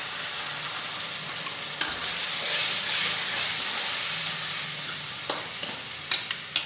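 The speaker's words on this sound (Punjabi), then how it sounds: "ਹੁਣ ਇਹਦੇ ਵਿੱਚ ਮੈਂ ਪਾ ਰਹੀ ਹਾਂ ਅਦਰਕ, ਹਰੀ ਮਿਰਚ ਅਤੇ ਲਸਣ ਦਾ ਪੇਸਟ" Ginger, green chili and garlic paste sizzling in a pan with browned onions, a steady close hiss of frying with a few clicks of a spoon stirring near the end.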